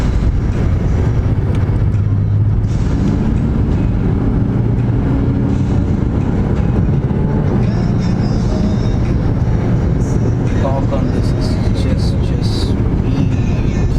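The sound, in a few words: Maserati Quattroporte driving in sport mode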